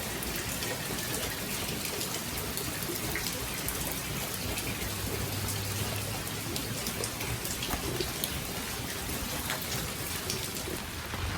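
Rain falls steadily on plants and banana trees, a dense, even hiss of drops at constant loudness with no voices.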